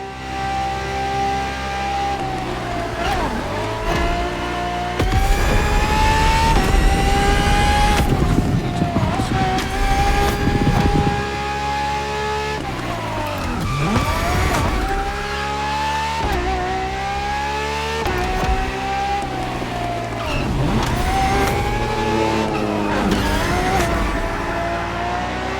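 A Ferrari FXXK in The Crew Motorfest revs hard through repeated gear changes, its loud high-pitched engine note climbing and dropping in waves, with tire squeal and a voice talking over the engine in places.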